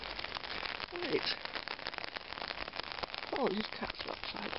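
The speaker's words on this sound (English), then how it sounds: "So yes, it's raining. It is raining." Steady rain patters on an outdoor surface in a continuous close hiss, with a brief voice-like chirp twice over the downpour.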